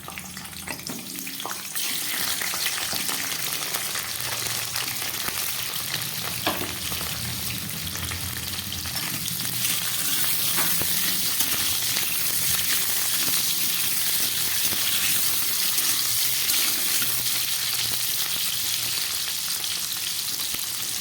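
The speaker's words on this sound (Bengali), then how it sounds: "তেলটা গরম হয়ে গেছে, এবার আমি এর মধ্যে দিয়ে দিচ্ছি কেটে রাখা পটলগুলো।" Cut pointed gourd pieces drop into hot oil and fry, setting off a loud, dense, continuous sizzle close to the pan that holds steady for the whole stretch.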